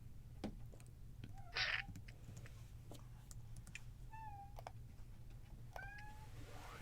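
A cat meows a few times in a small recording closet, short rising-falling cries scattered over a low steady hum, fairly faint and with no talk.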